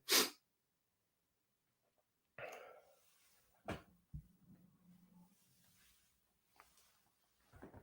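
A sharp human sneeze bursts out at the very start, followed by quiet rustling, a couple of short breathy clicks and a faint hum, then near-silence with small thuds.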